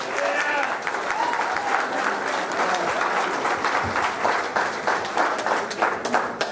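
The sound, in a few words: audience applause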